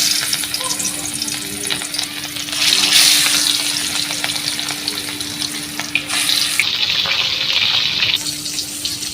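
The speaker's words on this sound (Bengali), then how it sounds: "মাছ ভাজার জন্য তেল দিয়ে দিলাম কড়াইতে" Spiced fish frying in oil in a wok in a village kitchen, a loud steady sizzle and crackle with bursts of spattering and a few utensil clinks, heard up close without talk.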